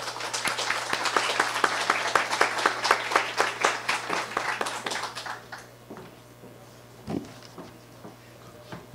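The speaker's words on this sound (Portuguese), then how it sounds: "Por favor, uma salva de palmas para Ana Arndt." Audience at a forum applauding a speaker being introduced, a brisk burst of many hands clapping for about five seconds, then fading to scattered claps and room murmur.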